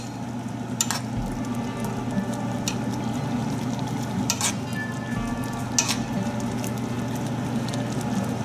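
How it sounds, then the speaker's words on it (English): Tanzanian fish curry (mchuzi wa samaki) sizzles steadily in the pan while sauce is spooned over, with a few soft clinks and scrapes standing out against the constant close frying hiss. "And then we'll spoon some of the sauce over."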